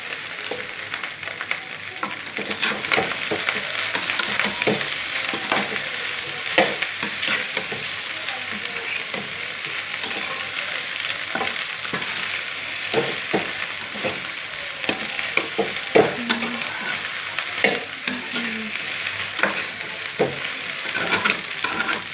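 Egg fried rice being stirred in a hot pan after pepper powder goes in, with a steady sizzle and frequent scraping strokes of the spoon, close and continuous with no talking.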